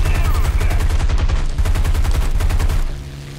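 A P-51 fighter plane's machine guns fire in War Thunder, a rapid, loud, continuous burst lasting about three seconds before cutting off under the engine hum.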